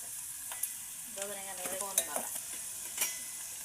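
Onions, mustard seeds and cumin fry in oil in a home kitchen pan, with a soft sizzle, a few scattered pops and a short stir partway through, quiet and close with no talking.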